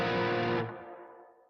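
Electric guitar strikes one harsh, dissonant chord through distortion and effects, ringing loud and full before decaying over about a second, with no voices.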